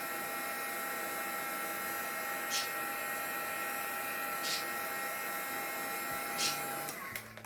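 A heat gun blows steadily to melt clear embossing powder on a craft tag, a constant close whirring hum with a few faint clicks, cutting off near the end.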